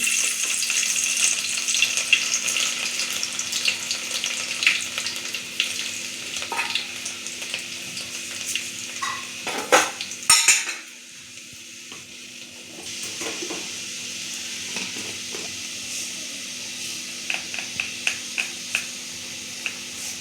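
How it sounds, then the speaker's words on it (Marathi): Finely cut garlic fries in hot oil, a steady close sizzle that runs throughout, with occasional stirring clinks and a brief louder burst midway before the sizzle settles a little quieter. "तेल चांगलं गरम झालं की त्याच्यामध्ये आपण बारीक कट करून घेतलेलं लसूण,"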